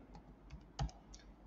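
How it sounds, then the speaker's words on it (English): A name being typed on a computer keyboard: a few quiet, close key clicks in an uneven rhythm, one firmer press standing out, over a faint room hum. "I'm typing my first name in small cap"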